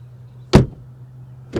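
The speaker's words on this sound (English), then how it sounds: "The door open and close sound from the outside." A 2020 Honda Accord 2.0T sedan door heard from outside, one sharp close thump followed a second later by another, loud and near over a low steady hum.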